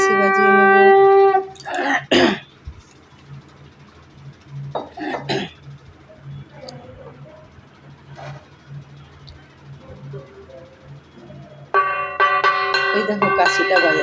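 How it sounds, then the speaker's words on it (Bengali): Conch shell blown for evening puja in a Bengali home, long steady droning blasts at the start and again near the end, with quieter household noises and brief sounds between. "শাক বাজিয়ে নিচ্ছি"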